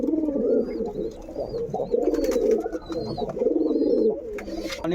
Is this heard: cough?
no